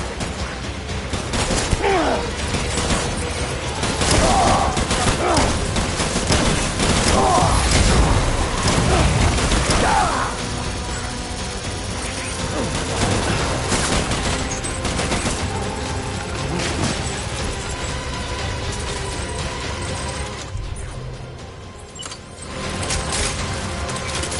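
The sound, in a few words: gunfire in the video game Death Stranding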